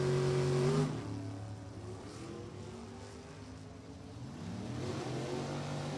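A 2003 Chevy Cavalier drag car with a 615 cubic inch motor launches down a dragway, a loud engine note that drops at the shift and then climbs again as it pulls away at high speed.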